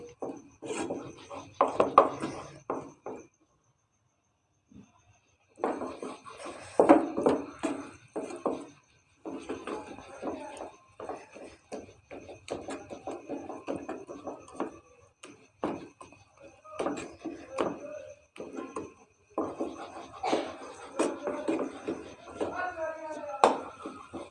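Milk powder burfi mixture scraped and stirred in a pan as it roasts and thickens, giving repeated rasping, rubbing strokes in uneven bursts with a short pause near the start, close and moderately loud.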